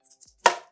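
A frozen apple juice concentrate can is crushed by hand in a kitchen, giving a few faint light taps and then one sharp, close crunch that quickly dies away.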